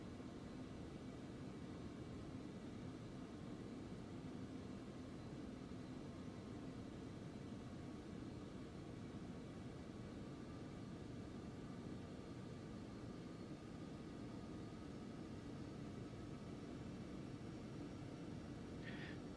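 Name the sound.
Phenom 300 jet taxiing, X-Plane 11 video game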